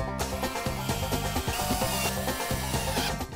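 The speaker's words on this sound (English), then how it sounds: "I'm going to put some screws in the bottom." A power driver runs screws into the bottom of a wooden storage box with a loud, close, continuous motor whir that shifts pitch as each screw bites into the wood.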